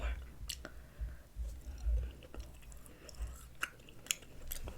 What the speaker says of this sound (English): You start chewing it and it almost like kind of melts in your mouth.